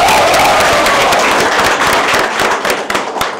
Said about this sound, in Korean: 조광환 후보께도 박수 보내드립니다.